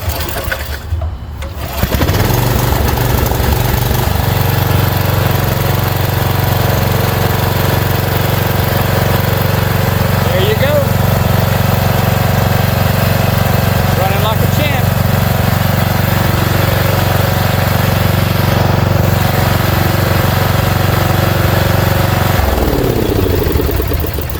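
A 23-year-old Snapper riding lawn mower with a 28-inch cut and 9 horsepower engine starts after a brief cranking burst, then idles steadily and loudly near the listener for the rest of the clip.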